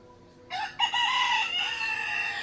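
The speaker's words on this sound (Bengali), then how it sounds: "এরকম মুরগির ডাক" A rooster crows in the morning at a village home where hens are kept for eggs, one loud, close, drawn-out cock-a-doodle-doo with harmonics starting after a brief quiet lead-in and holding steady to the end.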